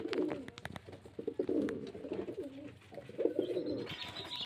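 Flying-competition pigeons coo in soft, repeated throaty bursts, several birds close by, with faint flutters and chirps in between, in Beldanga, Murshidabad.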